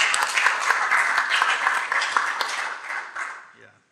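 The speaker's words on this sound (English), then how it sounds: "How about a round of applause for Dr." Audience applause for a speaker at a talk on practice strategy, a dense wash of clapping that fades out over a few seconds, with some voices mixed in.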